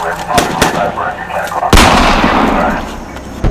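Gunfire in a military short film: sharp, loud shots crack out near 0.4 s and 0.6 s, then a heavy blast at about 1.7 s rolls into a long decaying rumble, with another sharp report near the end.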